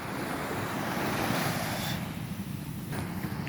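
Sea waves wash steadily onto a beach in Zambales, a broad continuous surf roar mixed with wind buffeting the microphone, with no voices.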